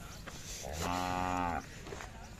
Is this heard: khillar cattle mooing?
yes